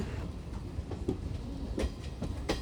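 A passenger train running on rails in Tamil Nadu near Katpadi, heard from inside: a steady low rumble with faint rhythmic wheel clicks and knocks, fairly quiet, with no talk.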